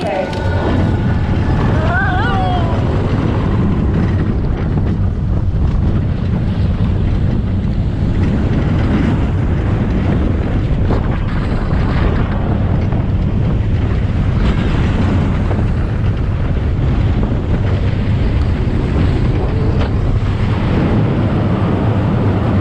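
Point-of-view ride aboard a roller coaster at Legoland California, a steady loud rush of wind buffeting the microphone with rumbling track noise underneath throughout, and faint voices in the mix.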